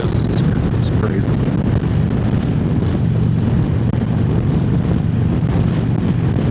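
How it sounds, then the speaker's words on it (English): Strong wind roars steadily and loudly, a heavy low rumble of gusts buffeting the microphone outdoors on an open road near distant windmills, continuous throughout with no letup. "See the trees move, how windy it is."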